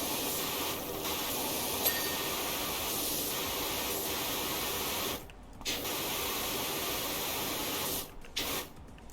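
Steady hissing spray from a pressure washer blasting rust off a fire station in PowerWash Simulator, continuous and loud with two brief pauses where the jet cuts off.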